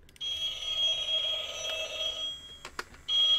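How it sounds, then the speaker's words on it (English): A phone rings in a room, a steady electronic warble repeating through the clip with a brief gap before it resumes, fairly close and clear with no talking over it. "It's the frickin' phone."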